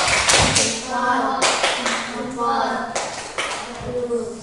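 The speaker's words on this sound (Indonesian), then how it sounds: "Tepuk jempol." A class of children performs a rhythmic thumb clap, a fast run of sharp tapping claps arriving in several bursts with a short pause between them. Voices are mixed in throughout, partly chanting along with the clapping.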